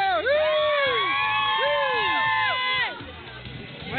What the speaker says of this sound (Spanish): Un grito, niños. Un grito.